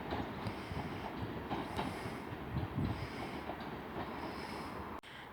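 A train rumbles steadily through Selby station at moderate distance, with a continuous rolling roar and wheel noise across the whole stretch and a brief drop at the end.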